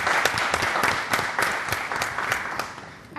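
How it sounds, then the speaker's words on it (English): A live studio audience gives a round of applause, many hands clapping in a full burst that slowly thins and fades toward the end. "Give yourselves a round of applause"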